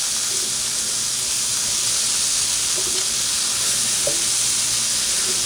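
Mushrooms in oil sizzle steadily in a GreenLife 12-inch ceramic electric skillet, a loud, even hiss of frying with steam, joined by a couple of faint clicks or stirring taps.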